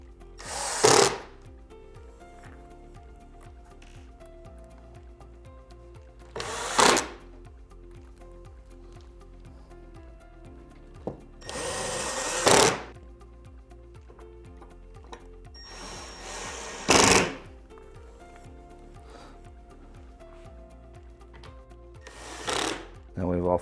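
A power driver sets screws into wall cabinet brackets, firing in five short whirring bursts spaced several seconds apart, with quieter handling noise between them.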